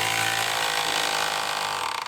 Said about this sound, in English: So now I can screw in the screws with the big drill.